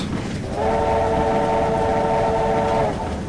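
A USATC S160 steam locomotive in Train Simulator 2016 sounds one long, steady chime whistle lasting over two seconds, loud and close over a constant rumbling background of the moving train.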